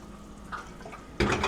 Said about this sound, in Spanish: Es ahora cuando vamos a necesitar ponerle agua caliente a nuestros tamales, siempre sin mojar los tamales.